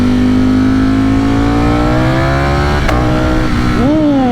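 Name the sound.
Ducati Streetfighter V4S motorcycle upshift with quick shifter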